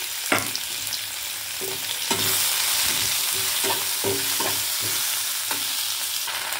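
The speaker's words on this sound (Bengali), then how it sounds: "সেম কড়াইতে তেল গরম করে নিয়েছি, জিরে ফোড়ন দিয়ে দিলাম, টমেটো কুচিগুলো অ্যাড করে নিলাম" Chopped tomatoes with cumin seeds sizzle in hot oil in a kadai, a constant loud frying hiss punctuated by repeated spatula stirs and clinks, close up and without speech.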